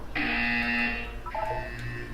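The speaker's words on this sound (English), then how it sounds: "When you hear the buzzer, look down at the floor." A harsh electronic buzzer from the video game Portal 2 sounds once for about a second, then a second, lower buzz follows, loud and alone.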